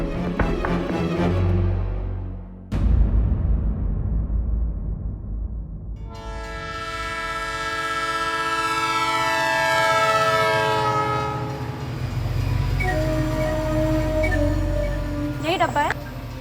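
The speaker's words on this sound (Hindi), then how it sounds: "धौलपुर से एक ट्रेन पास होती है जो हमें कालका पहुंचा देगी।" A passenger train running near Dholpur rumbles and clatters past with a blaring horn, steady rolling noise filling the scene loudly throughout.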